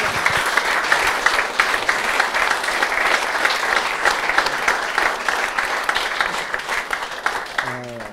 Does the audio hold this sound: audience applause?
yes